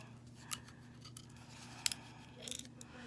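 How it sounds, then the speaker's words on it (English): Scissors snip through paper for a paper butterfly craft, a few short sharp cuts spaced apart and a quick cluster near the end, close and fairly quiet over a low steady hum. "We're going to cut it, hold it centered, and about almost to halfway."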